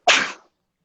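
A single short, sharp human sneeze bursts out close and loud, lasting under half a second and then falling away to silence.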